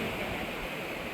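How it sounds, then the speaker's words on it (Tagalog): Strong ocean waves at Broken Beach on Nusa Penida, a faint, continuous broadband wash of surf heard from a distance, steady and without talk. "Wow, lakas na alon."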